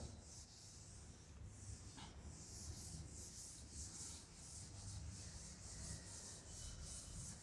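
A writing board in a college classroom is wiped clean by hand: steady, rhythmic rubbing strokes sound faint but continuous against a hushed room.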